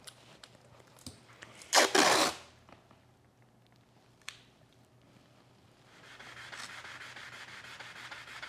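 A short burst of hand sanding on a dovetail saw, a few seconds of harsh rubbing scratches, followed by a single brief scrape and later a steady softer abrasive hiss.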